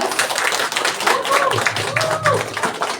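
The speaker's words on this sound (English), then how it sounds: "Round of applause." Audience clapping at a book talk, a ragged round of applause under and between voices, with overlapping speech and a few brief tonal sounds.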